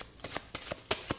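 A deck of cards is shuffled in a few quick riffling bursts, close and crisp against a quiet background.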